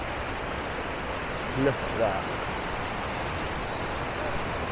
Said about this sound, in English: And we're at the main waterfall now, and this is insane.